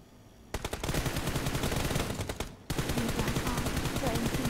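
Rapid automatic gunfire in a video game, dense continuous bursts with a short break in the middle, loud and close, with a voice faintly under it.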